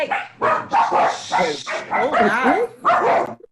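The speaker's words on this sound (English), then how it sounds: "hear dogs, yes" Dogs bark and yip close by in a series of sharp, uneven bursts, with a voice talking over them during an online poetry writing workshop.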